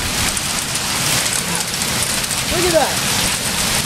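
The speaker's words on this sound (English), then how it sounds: "It's hail. The size of a quarter." Dense, steady pattering of quarter-sized hail striking a car during a storm, continuous throughout, with a person speaking briefly over it.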